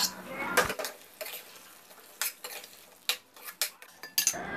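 A spoon stirs and scrapes mashed moong dal into a tempering in a pan, making sharp metallic clinks and knocks in an irregular rhythm over a faint, quiet sizzle.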